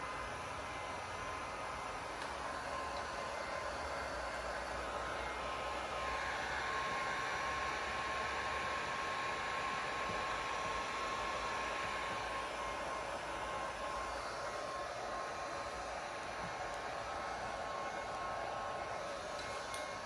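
A heat gun blowing hot air over chrome delete vinyl on the window trim of a 2019 Sierra or Silverado crew cab, giving a loud, steady whooshing roar throughout with no talk.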